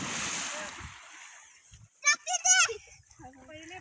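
A splash of water from someone jumping into a cold village swimming spot opens the clip, fading into quiet before excited voices of children and adults talk and shout close by.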